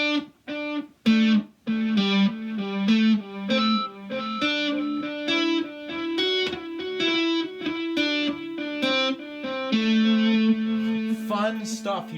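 Three-string cigar box guitar played through a Danelectro Dan Echo pedal, plucked notes and chords repeating in rhythmic echoes with a distorted, reverberant tone, close and alone.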